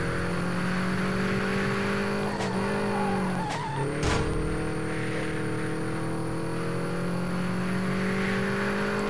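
Car engine droning steadily while driving in Super Street The Game, a racing video game, with brief tire squeals and scrapes around the middle and a continuous high whine throughout, no talking.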